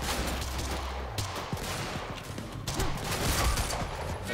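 Rapid gunfire in the video game Quantum Break, dense bursts of shots and impacts layered over a constant noisy combat background, fairly faint and continuous with no clear gaps.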